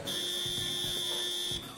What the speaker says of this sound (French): Le buzzer retentit.